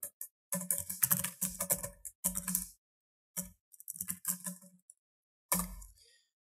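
Someone types HTML code on a computer keyboard in short, quick bursts of close, crisp key clicks separated by brief silent pauses, with no speech.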